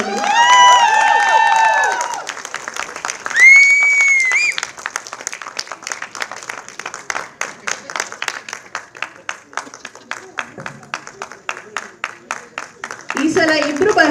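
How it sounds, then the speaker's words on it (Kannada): An audience claps loudly for a best story win at a Kannada short film competition award ceremony, with some cheering. The clapping continues steadily, a host speaks over it, and the applause thins out toward the end. "ಜೋರಾದ ಚಪ್ಪಾಳೆ ಬರಬೇಕು"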